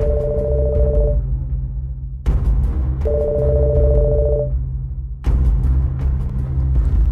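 A telephone ringback tone sounds while a call waits to be answered: two long paired beeps about two seconds apart, loud and clear over a steady background hum, with no voices.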